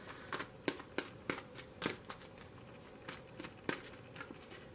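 Quiet, irregular flicks and riffles of an old tarot deck being shuffled by hand, close and soft, with no talking.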